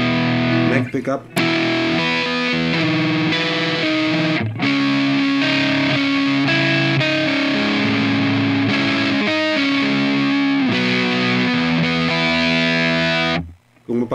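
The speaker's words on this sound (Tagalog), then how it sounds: "kahit naka-neck pickup siya, tapos mag-chords ka ng naka-distortion, klaro pa rin yung notes." Loud distorted chords ring out from a PRS electric guitar on its neck humbucker pickup through an amp modeler, held in long sustained strums with a couple of short gaps and a cutoff near the end.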